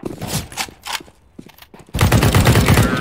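Gunfire in the game CS:GO: scattered shots and game sounds at first, then a loud sustained burst of rapid automatic fire for the last second, close and dominant.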